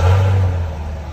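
A stock 2021 Chevy Camaro LT1 with a 6.2L V8 and dual exhaust gives a short, loud rev, a deep droning exhaust note that holds, then eases off.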